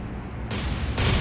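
Warship gunfire in the naval combat game War on the Sea, two heavy booming blasts in quick succession, each a sudden broad roar that hangs on, with no voices over them.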